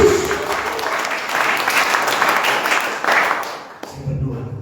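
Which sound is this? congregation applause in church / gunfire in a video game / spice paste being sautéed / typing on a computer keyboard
congregation applause in church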